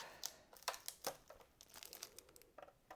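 Tape being peeled and pulled off a knitting machine toolbox, with several sharp crinkling, tearing bursts in an irregular rhythm, close and fairly quiet, with no talking.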